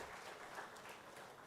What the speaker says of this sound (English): Claps for GITAM for doing it.